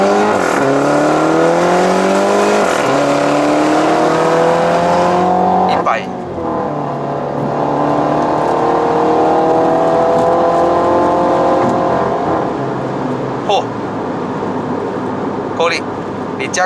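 A Mini John Cooper Works F56 accelerates hard on a Malaysian road test drive, its engine note climbing loudly through the revs, dropping at a gear change, then rising again before easing off.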